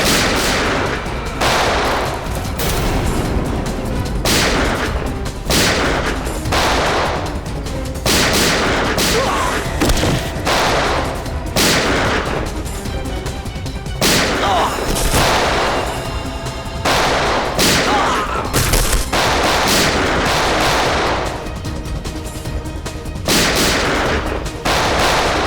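Dense, rapid gunfire from a shootout in the Hindi TV crime drama CID rattles loudly and almost continuously, with repeated bursts and booming shots overlapping throughout.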